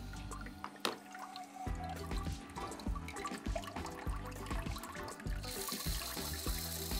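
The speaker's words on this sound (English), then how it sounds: "So the rear wash is now running." A Studio Lux SLi 2000 bidet toilet seat runs its rear wash, a close, steady spray of water pattering and trickling against the bowl, with a click near the start and a louder hiss toward the end.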